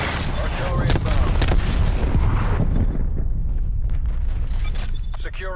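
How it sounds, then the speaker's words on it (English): Artillery strike in Call of Duty: Black Ops Cold War on the Moscow map during a Domination match, a dense roar of blasts and booms rolling continuously and loud, with faint game voice chatter mixed in. "Artillery inbound."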